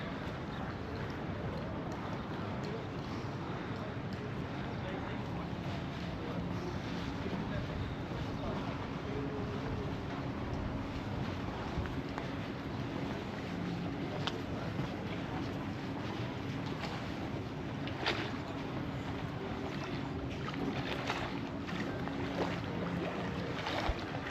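Continuous rushing and lapping water in Faro, Portugal fills the scene, a steady broadband wash with occasional splashes and faint background voices.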